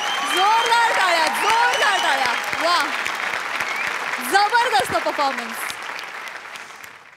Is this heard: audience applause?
yes